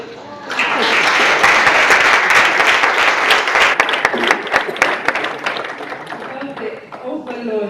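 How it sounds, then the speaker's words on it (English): An audience at an award ceremony for young public speakers claps loudly and steadily, then the applause thins out toward the end as a voice begins speaking. "and you can clap"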